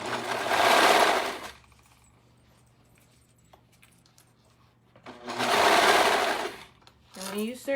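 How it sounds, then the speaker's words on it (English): A serger sewing machine runs close by in two loud whirring bursts of about a second and a half each, separated by quiet handling noises, while stitching two layers of skirt fabric together, with a voice speaking briefly at the end. "And when you're serging, you're just trying to make sure you got both fabrics together."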